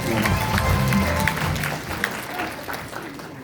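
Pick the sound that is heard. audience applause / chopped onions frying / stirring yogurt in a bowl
audience applause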